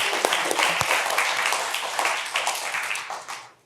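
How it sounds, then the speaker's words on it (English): An audience applauds a panel at an Asia Institute 25th anniversary event. The clapping is dense and moderately loud, holds steady, then thins out and fades toward the end. "big round of applause to the entire panel"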